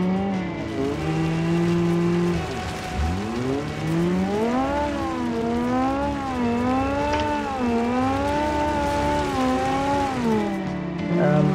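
A rally car in the BeamNG driving game with a dual-clutch gearbox accelerates and revs through gears, engine pitch rising, dipping and wavering steadily, loud and close with no talk.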